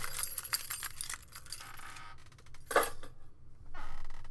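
A bunch of keys jangles in bursts of bright metallic clinking, near and fairly loud, with short pauses between shakes and no talk.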